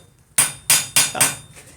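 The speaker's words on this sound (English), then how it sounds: "So she's just going to keep hammering this out here." Hot metal being hammered at a forge: four or five loud, sharp ringing hammer blows in a steady rhythm, close up, with no talk.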